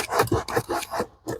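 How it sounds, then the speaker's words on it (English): Towel rubbed by hand over a carpet stain treated with Simple Green cleaner inside a 2004 Toyota 4Runner, several quick close scrubbing strokes in an uneven rhythm. "And then we'll use a towel and just rub it out."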